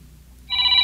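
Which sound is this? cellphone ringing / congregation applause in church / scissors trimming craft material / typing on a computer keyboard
cellphone ringing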